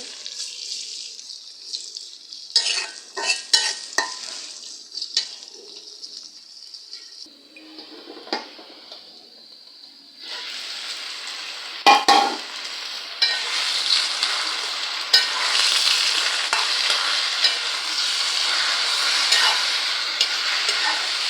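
Onion and garlic fry in a pan, starting with scattered crackles and stirring taps that build into a loud, steady hiss, with a sharp clatter near the middle.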